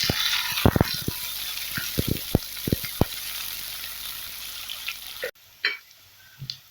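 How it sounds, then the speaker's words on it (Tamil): Onions sautéing with browned chana dal in a pan for cabbage poriyal, a soft continuous sizzle broken by several sharp clicks of a spatula stirring against the metal, then a short quiet pause and more scraping. "இப்போ வெங்காயத்தை இதில் சேர்த்துக்கிறேன். நல்லா வதக்கி விட்டுக்கலாம்."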